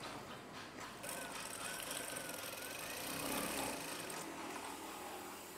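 Sewing machine stitching a curtain, a rapid steady mechanical chatter with a slight swell midway, faint and continuous with no talk over it.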